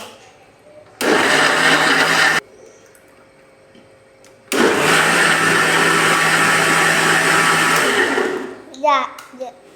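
A kitchen mixer grinder blends with milk, running in two loud whirring bursts: a short one, then a pause, then a longer steady run that winds down, followed by a few clinks.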